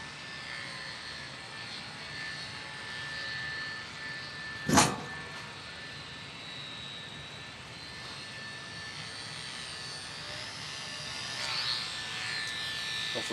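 A PZ Sukhoi SU-26m RC plane's electric motor whines steadily overhead during upside-down flight and quick spins, faint and distant, with a brief sharp burst near the microphone partway through.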